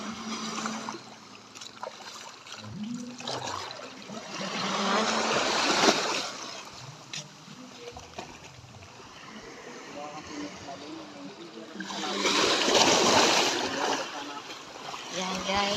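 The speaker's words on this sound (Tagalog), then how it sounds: "ang lakas ang alon" Strong ocean waves at a beach resort after a typhoon wash and crash in two big surges, with voices talking over the rolling water between them.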